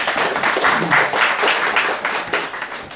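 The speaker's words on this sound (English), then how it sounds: "Let's give one more round of applause to Ramesh" Audience applause for Ramesh at a talk, a steady patter of many hands clapping together at moderate loudness, filling the room from start to finish.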